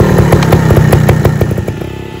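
A trial motorcycle engine, with a Vertigo bike nearby, runs loud and close in a rapid, buzzing, pulsing rev that wavers slightly without any pause.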